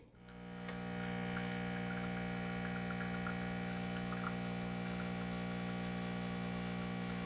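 A CUSIMAX 20-bar compact espresso machine preheats, rising within a second to a steady, even electrical hum that holds unchanged throughout.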